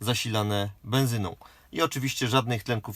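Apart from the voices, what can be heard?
No everyday noise stands out behind the speech.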